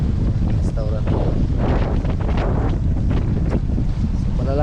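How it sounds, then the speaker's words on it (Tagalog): Strong wind buffets the microphone at a seaside restaurant in Cordova, Lapu-Lapu City, with big waves rolling in from a rough sea during a low-pressure system, a continuous loud roar under a speaking voice. "So malalaki ang alon dahil merong LPA."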